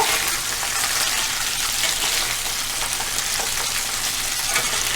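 Loud, steady sizzling of crab pieces frying in a hot pan, close up and continuous, with no voices.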